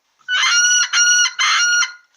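A Glenarley bagpipe chanter reed crowing on its own, a bright buzzy squawk sounded in three short bursts with brief gaps between.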